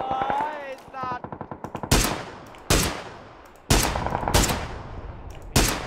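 PUBG gunfire rings out close and loud: a rattling burst followed by four sharp, heavy single shots spaced about a second apart, with brief voice-like tones heard before the first shot.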